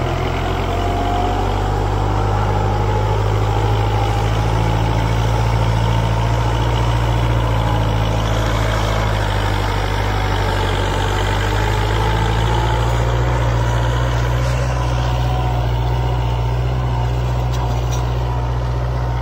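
A Kubota MU4501 4x4 tractor runs a tiller in fourth low gear, its engine droning steadily and loudly up close for the whole stretch with no talk.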